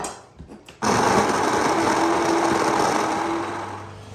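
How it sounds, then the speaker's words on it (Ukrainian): Blender mixing a cream-and-cheese mixture into chocolate for a macaron filling: after a few quiet knocks, the motor kicks on abruptly and whirs loudly with a steady high whine, easing off slightly near the end. "Виливаємо суміш вершків та сиру на шоколад і пробиваємо усю масу блендером."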